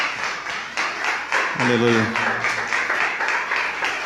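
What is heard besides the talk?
congregation clapping in church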